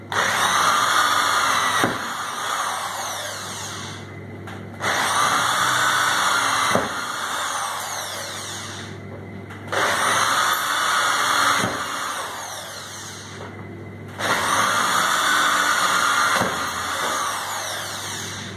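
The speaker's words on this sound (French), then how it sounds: "quand je perce, c'est une plaque d'agglo qu'il y a" A power drill bores into particleboard during repair of a butcher shop counter cabinet, running in four loud, steady whining bursts separated by short pauses.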